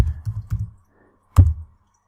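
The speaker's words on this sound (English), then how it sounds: "go to the search window and type in Basic Med" A few close keyboard taps and clicks come as a search is typed into a website, in a short cluster of strokes, a pause, then one firmer keystroke.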